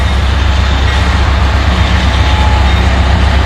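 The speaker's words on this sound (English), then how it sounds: "I get stuck behind the train." Train passing at a road crossing, a steady, loud low rumble and rolling drone that holds evenly throughout with no pauses or talk, close by.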